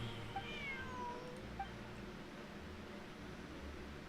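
A cat meows a few times in a video game, faint and high against a constant low hum and hiss, with no voices present.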